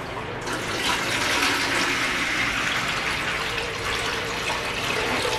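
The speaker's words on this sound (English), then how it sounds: "In goes the water." Water poured in a steady continuous stream, splashing and rushing close by at a fairly loud level for several seconds without a break.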